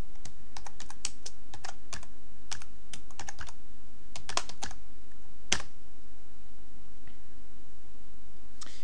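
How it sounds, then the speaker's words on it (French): Typing on a computer keyboard while entering a letter's recipient address in an office word processor: bursts of quick, close key clicks with short pauses between clusters, no talking. "je peux taper l'adresse du destinataire"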